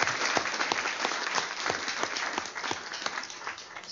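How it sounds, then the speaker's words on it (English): A workshop audience claps in dense applause with many sharp overlapping hand claps, loud and continuous, tapering slightly toward the end. "Let's give them a round of applause."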